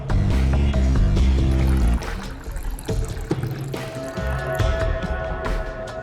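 Water is poured from a container in an indoor drama scene, a liquid splash and gurgle with a brief rising tone at first, then softer trickling and small handling sounds that continue for several seconds.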